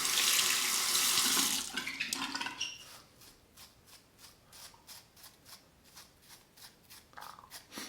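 Razor held under a running tap, a loud rush of water for about two seconds, then a series of quick rhythmic scraping strokes from shaving a heavy beard, close up.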